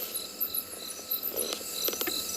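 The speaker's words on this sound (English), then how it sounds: "So you might be able to hear some frogs, some crickets," Crickets chirping at night beside a dam on a South African safari, a dense steady high stridulating chorus with several louder nearby bursts rising over it.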